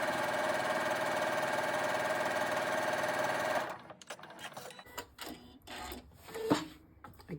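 A sewing machine runs a fast, continuous, close whirring stitch along quilt strips for a friendship braid quilt, then stops, followed by fabric handling and soft clicks.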